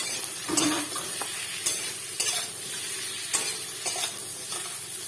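Kankrol (spiny gourd) frying in a pan, a soft steady sizzle broken by several brief scraping stirs and light clatters of a spatula, fairly quiet and close.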